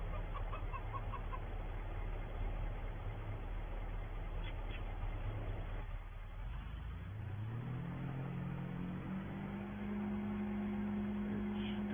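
Chickens cluck and a rooster-like call sounds on a farm where eggs are being loaded, with steady background noise; about halfway through, a vehicle engine starts and revs, its rising drone taking over.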